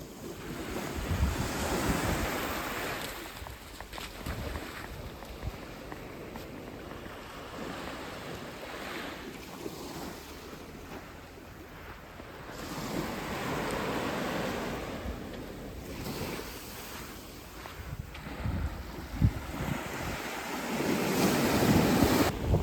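Ocean waves break and wash onto a beach on the French Riviera, a steady roaring surf that swells and recedes in repeated surges, with wind buffeting the microphone throughout and no talking.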